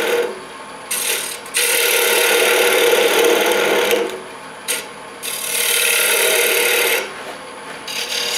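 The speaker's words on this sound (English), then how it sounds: "I will go to the scraper after some wood is gone to make it flat." A woodturning scraper cuts into a spinning wooden pocket mirror blank on a lathe, a loud harsh scraping rasp coming in long sustained passes broken by short pauses, close and alone.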